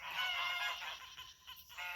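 A flock of domestic Pilgrim geese and wild Canada geese honking and calling together in a dense, continuous clamor, fairly close and busy throughout with no talking.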